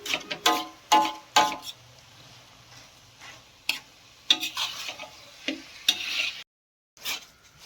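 Khoa and grated carrots being roasted and stirred in a pan for Punjabi-style gajrela, with repeated scraping stir strokes and soft sizzling, close and fairly loud, broken by a brief silent gap.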